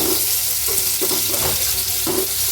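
Sliced onion sizzles in hot oil in a pan while being lightly browned, with a steady crackling hiss and a few soft stirring scrapes, close and without talk.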